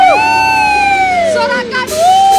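A church congregation at a worship service cheering and whooping together, a loud crowd of rising and falling shouts, close and full, with no speech over it.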